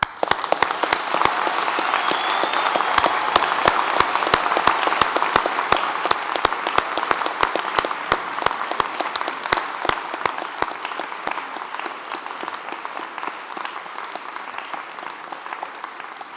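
Sustained applause from a large audience at a Cambridge University graduation ceremony, dense steady clapping with sharp individual claps standing out, loud and continuous before slowly thinning toward the end.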